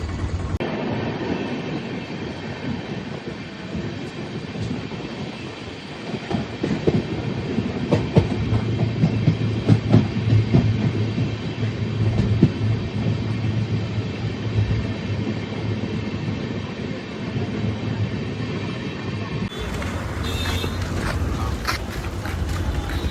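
A train runs along railway tracks near Pokaran in Rajasthan, a steady loud rumble with rhythmic wheel clatter and rattling carriages that continues throughout, with faint voices at times.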